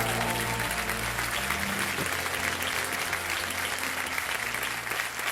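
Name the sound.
applause for Kavita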